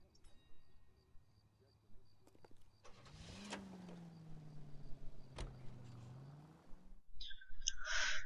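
A car engine in the video game L.A. Noire starts up about a third of the way in, then holds a steady rising drone while driving before cutting off, followed by a brief chirpy sound near the end.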